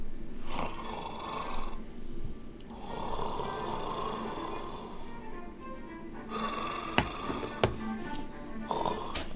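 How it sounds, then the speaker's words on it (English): A creature draws deep, long, rasping breaths, slow snore-like inhales and exhales repeating close by with a few sharp clicks. "You hear a deep, long breathing."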